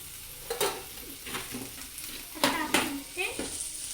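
Green chillies and red chilli powder frying in a pan while a spoon stirs them, with a soft hiss and a few sharp scraping strokes spaced irregularly, close and fairly quiet.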